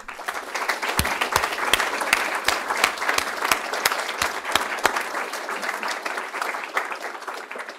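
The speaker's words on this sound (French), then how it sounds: "Donc, félicitations à tous, et encore une fois, une bonne main d'applaudissements." An audience at a school honour roll ceremony gives a round of applause, dense overlapping clapping with a few sharp individual claps standing out near the listener, steady throughout and tapering slightly toward the end.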